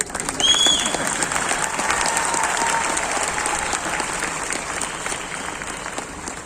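A crowd applauds at a stage event with dense, continuous clapping that starts strong and eases slightly, heard alone without speech.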